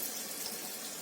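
A gram-flour-battered potato vada for vada pav is slipped into hot oil, giving a steady, close, bright hissing sizzle throughout with no talking.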